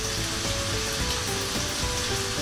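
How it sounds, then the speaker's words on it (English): Peppers sizzle and fry in a hot pan for a vegan cooking dish, a steady close crackling hiss with no talking. "the peppers that I'm going to add to half of the batch for the plait, I'm frying separately"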